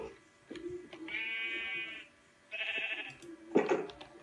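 Minecraft sheep give two sustained, wavering bleats, loud and close, with a third shorter bleat after a pause, over quiet game ambience.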